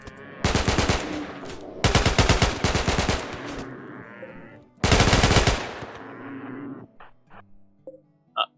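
An automatic gun in the video game RimWorld fires in three rapid spray bursts, loud and rattling with brief pauses between, followed by a few quieter clicks and game interface sounds.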